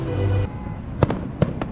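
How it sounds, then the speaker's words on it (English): Fireworks show at Carowinds amusement park at night, with a steady crowd-and-ride rumble first, then several sharp distant bursts popping at irregular intervals. "They are doing a fireworks show at 10:15."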